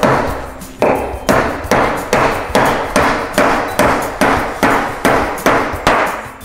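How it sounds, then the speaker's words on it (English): A handheld hammer strikes repeatedly at an even rhythm, about thirteen sharp, loud blows, each with a short ringing decay, close by and alone without talk. "And number two, my hammer."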